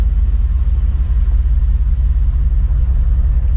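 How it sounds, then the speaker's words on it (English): A 1977 Dodge Power Wagon reverses with its engine running, giving a loud, close, steady low rumble with a throbbing pulse and no voices over it. "That clutch doesn't sound nearly as bad."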